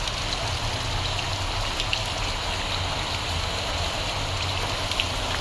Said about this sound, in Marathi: कसं पाऊस पडतोय